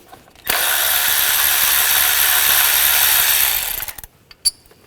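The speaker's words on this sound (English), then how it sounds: "Using a 10mm socket, take this bolt out." A 10mm socket ratchet backs out an ignition coil bolt on a 2014-2020 Nissan Rogue 2.5L. A loud, steady whirring burst lasts about three seconds and ends in a few faint clicks.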